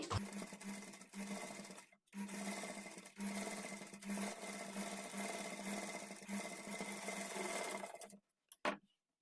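Piping on fabric is stitched by a sewing machine running in one long, steady whirring stretch, with a brief pause near the start and a short final burst after it stops.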